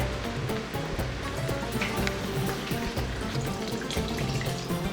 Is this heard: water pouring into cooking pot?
yes